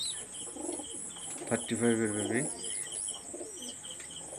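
High-quality flying pigeons in a loft make a brief, soft coo among faint chirps, with a persistent high insect-like whine behind them and a person speaking briefly.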